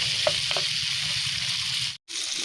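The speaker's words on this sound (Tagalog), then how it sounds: "Durugin ang bahagya habang hinahalo para lumabas ang katas." Tomatoes are crushed and stirred in a frying pan for a dish with dried anchovies, giving a continuous close sizzle with a few soft taps early on and a brief cut to silence near the end.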